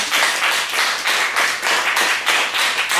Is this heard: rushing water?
no